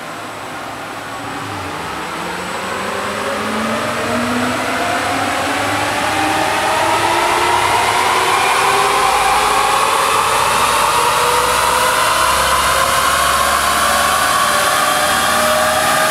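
An electric car pulling hard in third gear, its motor whine rising steadily in pitch as it accelerates, loud and continuous with a broad rushing roar underneath.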